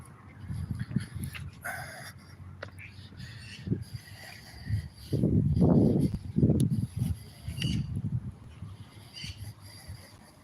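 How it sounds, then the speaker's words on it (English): Birds call and honk in noisy bursts, louder toward the middle, against a faint outdoor background. "Those birds are making a lot of noise."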